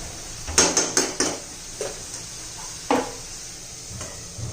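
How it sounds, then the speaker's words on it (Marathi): A metal lid settles onto a pan of spinach and carrot bhaji, with a quick run of sharp clanks followed by a couple of lighter knocks, close and clear. "त्याच्यावर आपण आता झाकण ठेवून देऊया"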